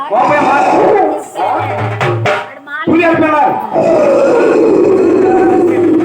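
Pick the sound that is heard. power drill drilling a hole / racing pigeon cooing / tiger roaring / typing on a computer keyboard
tiger roaring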